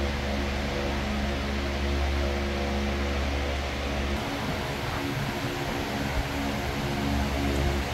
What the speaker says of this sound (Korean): 대형 선풍기를 틀어놓으니까 엄청